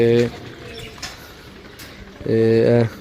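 Close pigeons cooing in two bursts of throaty, rolling calls, the first brief and the second longer, with a quiet stretch between.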